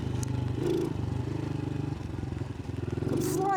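A powerful dirt bike engine runs close by, steady pulsing revs with slight rises and a brief dip, ridden through snowy woods, with a faint clatter near the end.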